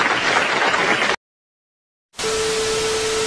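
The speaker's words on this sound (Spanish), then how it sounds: "Le damos un aplauso" Audience applause arrives as a dense, hissing wash of clapping, cut off abruptly into full silence and then resuming just as loud, with a steady tone running under the second burst.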